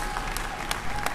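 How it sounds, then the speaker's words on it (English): An audience applauds a councilmember at a topping-out celebration for a new entertainment and sports arena, a short burst of steady, dense clapping from a crowd close by. "Give Councilmember White a big hand."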